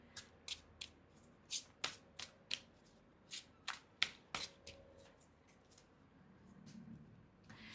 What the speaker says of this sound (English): So let's pull out your tarot cards